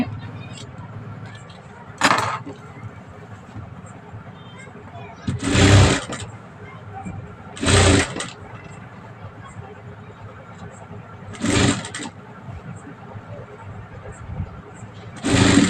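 Sewing machine running in short bursts while stitching a rolled hem on a garment neckline, four or five separate loud runs of about a second each with quiet gaps between them.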